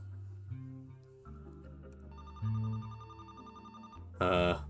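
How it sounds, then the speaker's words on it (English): A telephone rings in the video game The Roottrees Are Dead, a brief electronic ring over a soft layered musical background, ending with a louder bright burst. "The phone is ringing."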